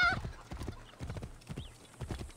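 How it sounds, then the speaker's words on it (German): Horse hooves in the video game Assassin's Creed Origins beat out a quick repeating clip-clop rhythm, close and fairly quiet, several evenly spaced strikes in a short stretch. "Ich glaube, ich reite lieber hier so lang."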